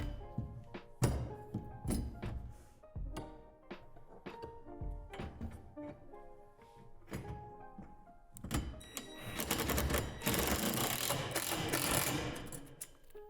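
Pole braces are fastened with hardware while a portable basketball hoop is assembled: repeated close ratcheting clicks, metallic clanks and thunks come in irregular bursts, ending in a louder, denser stretch of rattling and cranking.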